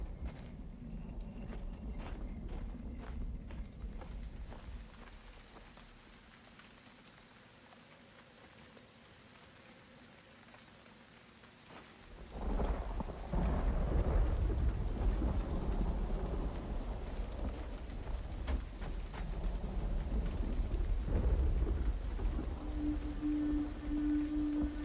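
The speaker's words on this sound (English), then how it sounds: "It looks like a storm. Oh boy. It'd be stormy." Rain and a thunderstorm in the video game Uru: Ages Beyond Myst, a steady wash of rainfall that starts softer, then swells suddenly louder midway with rumbling thunder, continuing without talk.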